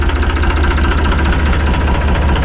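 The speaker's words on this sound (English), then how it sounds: "Now I'm gonna be running the tractor" A small garden tractor engine runs at a steady idle, loud and close, with a rapid, even knocking chug throughout and no talking.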